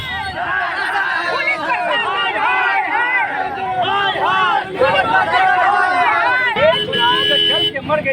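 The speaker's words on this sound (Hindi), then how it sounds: "भीड़ सड़क पर आगजनी प्रदर्शन कर रही है" An angry crowd protesting on a road in Patna, with arson and a blocked road, loud overlapping shouting voices and chatter close by, with a reporter talking over it.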